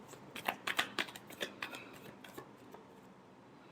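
Tarot cards shuffled by hand during a love reading, giving a quick run of crisp papery riffles and taps that cluster early, then thin out to a few faint flicks over a quiet room.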